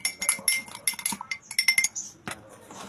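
Spoon stirring baking powder into milk for potato donut dough, a quick series of bright clinks of metal against a bowl in an irregular rhythm with short pauses.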